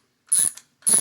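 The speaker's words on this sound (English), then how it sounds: "we'll test out the biggest nut driver on here and see how that goes." Klein stubby ratcheting nut driver, its largest size, makes two quick bursts of clicking, one after the other, close and fairly loud with no voices.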